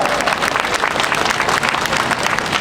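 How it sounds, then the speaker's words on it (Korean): Sustained, dense applause from a crowd gathered for an outdoor Catholic street Mass during a climate justice march, steady and fairly loud throughout with no break. "그 밖에 지금 박수를 치고 있는 우리 모두를 위해서 힘찬 박수 부탁드리겠습니다"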